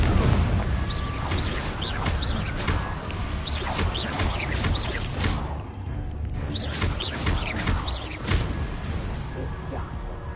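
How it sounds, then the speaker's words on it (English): Fire-blast spells exploding in Hogwarts Legacy combat, a run of whooshing casts and booming blasts recurring every second or two over a steady backdrop of battle noise, loud and close. "Confringo."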